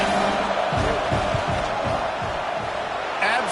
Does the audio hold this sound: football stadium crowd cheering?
yes